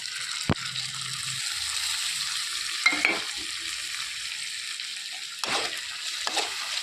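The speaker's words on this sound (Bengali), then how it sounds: "এবার মশলাটা ভালো করে কষিয়ে নেবো" Masala with tomato paste and cumin paste frying in a pan for a chickpea dish, a soft, steady sizzle with a few sharp scrapes and knocks from stirring.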